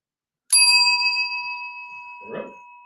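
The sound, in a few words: service bell rung once at a counter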